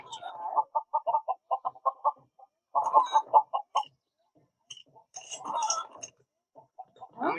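Chickens in the video game Lego Worlds give a rapid run of short clucks in bursts, then pause and cluck again, with a voice speaking between them.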